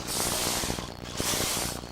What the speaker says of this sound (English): The stitches are created quite fast, a whole row at a time when you push the carriage across the needle bed.